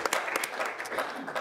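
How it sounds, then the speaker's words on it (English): An audience at a wildfire awareness event in Big Sky, Montana claps for the Big Sky Fire Department, the applause steady and moderately loud throughout a brief stretch, with some crowd murmur mixed in. "keep clapping for the Big Sky Fire Department and the firefighters around the country"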